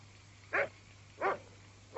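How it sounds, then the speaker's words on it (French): A dog barks outdoors at night, three single woofs evenly spaced about two-thirds of a second apart, moderately loud over a quiet background hum. "Ce chien a attrapé un raton laveur."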